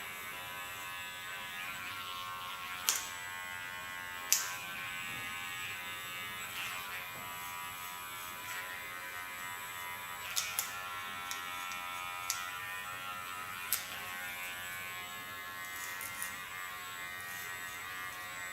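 An electric hair clipper buzzes steadily while shaving the side of a head, a faint continuous drone broken by a few brief clicks and taps.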